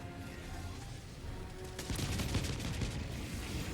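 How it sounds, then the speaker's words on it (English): Enemy gunfire in the video game Helldivers 2 crackles faintly at a distance, then turns into a denser burst of rapid shots partway through. "I also don't want to run straight towards people shooting me"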